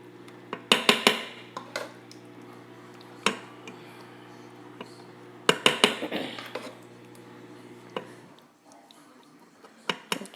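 Lasagna shells and sauce are layered into a Power Pressure Cooker XL pot, with a few sharp metallic clinks and scrapes of a utensil against the pot in two clusters, then quieter handling.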